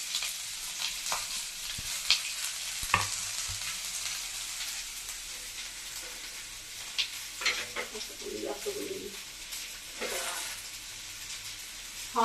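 Onion and garlic masala fries in a pan with a soft, continuous sizzle, broken by occasional scraping stirs and clinks of a utensil, close and fairly quiet.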